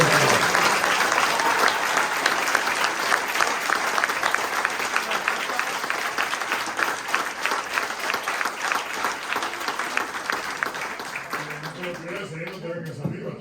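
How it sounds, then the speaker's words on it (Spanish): Sustained applause from an audience at an event in the Palacio de los Salazar, many hands clapping loudly and evenly, thinning out near the end as a voice begins speaking. "Damos un aplauso al filipino."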